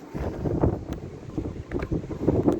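Strong gusty storm wind at a cabin roars across the microphone in uneven surges, with low buffeting rumble and no voices.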